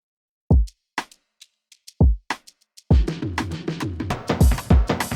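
Drum roll with drum and ride cymbal in an afroswing beat: a few sparse punchy kick hits with short ticks, then a dense rolling burst of drum strokes and shimmering cymbal washes, loud and close.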